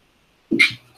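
A single short, sharp sneeze bursts out of silence, close and fairly loud, then quickly fades.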